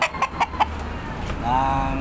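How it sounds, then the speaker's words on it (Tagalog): A few sharp pecking taps close by as a gamecock rooster pecks at mixed dry feed, then a brief chicken cluck and a soft rising call at the end. "Ito po ang aking manok na tumutuka"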